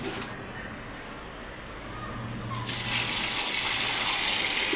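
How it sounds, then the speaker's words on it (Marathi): Water pours and splashes over soaked sorghum grains being rinsed clean, a steady gushing wash that grows louder and brighter partway through, with no voices. "आता ही आपण पाण्यातून धुवून स्वच्छ काढू का"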